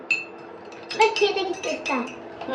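A spoon clinking against a cup while sugar is stirred into tea, several bright close clinks amid light stirring, with people talking over it.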